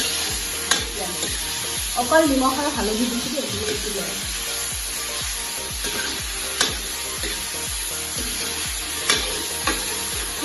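Chicken pieces frying in a large kadai over a high flame, a continuous loud sizzle with regular stirring scrapes throughout while someone talks over it.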